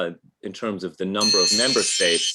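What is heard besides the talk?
five-minute timer alarm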